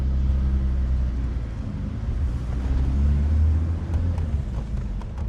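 A Ford Focus RS with a forged engine shifting into second gear, a low, steady engine drone with a slight dip and rise as the gear changes, heard from inside the car.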